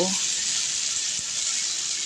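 Blended mustard and chili paste sizzles in hot oil in a pan while mustard koi fish is cooked, a constant bright hiss close by that holds steady from start to finish.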